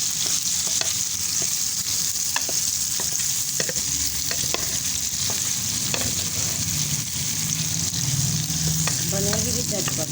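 Potatoes and onions fry in a pan with a dense, continuous sizzle close by. Occasional scrapes and clicks of stirring run underneath, with no talking.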